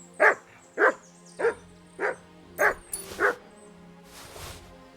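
Mutt, the dog in Kingdom Come: Deliverance II, gives six or so sharp, close barks at a brisk pace. A rustling, hissy noise follows as the barking stops.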